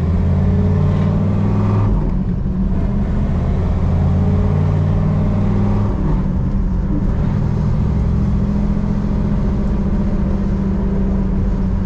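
A 1969 Chevrolet Camaro RS/SS engine rumbles close and loud with an old-school rasp, holding a steady deep drone with slight shifts in pitch as it idles and revs gently.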